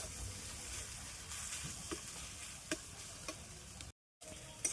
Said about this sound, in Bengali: কচুটা দেখুন কত সুন্দর কড়াতে টেলে নিয়েছি শুকিয়ে শুকিয়ে এসছে